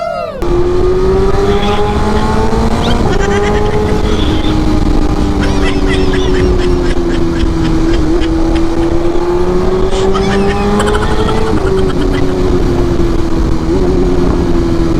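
A big bike motorcycle being ridden, its engine droning loud and close with a steady hum that rises and shifts slightly as it runs, alongside wind rush and road noise throughout.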